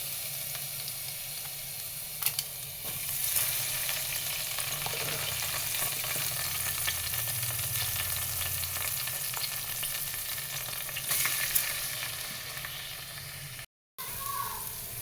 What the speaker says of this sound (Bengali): তার জন্য আগে তেলের ভিতরে চালটা ভালো করে ভেজে নিব।